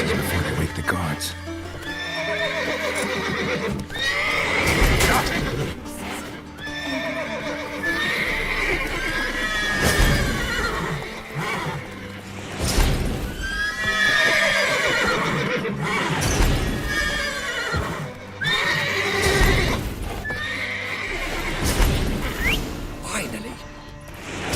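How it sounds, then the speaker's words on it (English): Several horses whinny and neigh repeatedly in The Witcher 3: Wild Hunt, with clopping hooves and game ambience underneath; the calls come in loud bursts across the whole stretch, with in-game speech mixed in. "Gotta call all the horses before they wake the guards."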